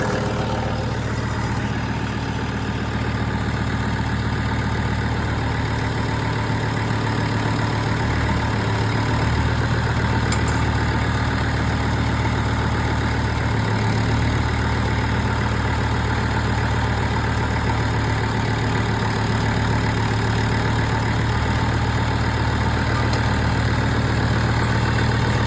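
A Farmall A tractor engine idles in a low, steady drone that stays loud and even throughout, with no talking.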